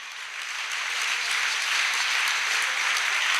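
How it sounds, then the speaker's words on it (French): A church congregation applauds in praise during a sermon. The clapping is dense and sustained from many hands in a large room, swelling slightly, with no pause and no clear speech. "Une acclamation au Seigneur Jésus"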